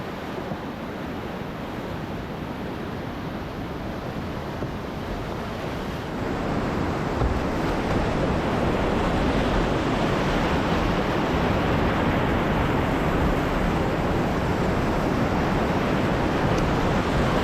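Whitewater rapid on Idaho's South Fork Salmon River, a dense continuous roar of rushing water that swells louder partway through and holds steady, with no voices.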